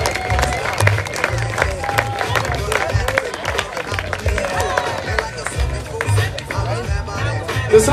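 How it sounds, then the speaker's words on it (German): Crowd applause and cheering at a WCMX wheelchair skate contest award ceremony in Füssen, steady clapping under a loud announcer's voice throughout. "Come on, riesen Applaus."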